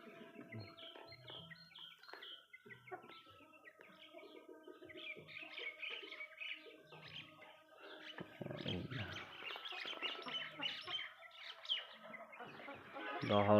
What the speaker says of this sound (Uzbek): Jo'jalar maza qilib yuribdi